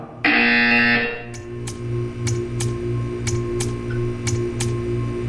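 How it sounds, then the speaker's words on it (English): Loud electronic buzzer in the Portal 2 video game, a harsh one-second blast followed by a throbbing low hum with regular sharp ticks. "You will hear a buzzer. When you hear the buzzer, stare at the art."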